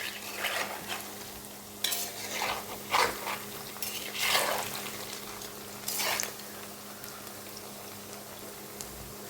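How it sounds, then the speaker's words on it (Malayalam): Cauliflower fries quietly in a pan while a spoon gently stirs it, giving a soft sizzle broken by a few separate scraping strokes. No one speaks. "പതുക്കെ നമുക്കൊന്ന് ഇളക്കി കൊടുക്കാം."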